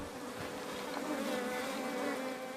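African bees buzzing in a steady, dense drone, a swarm close by with individual insects passing near, moderately quiet and continuous with no voices.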